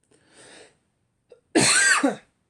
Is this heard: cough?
yes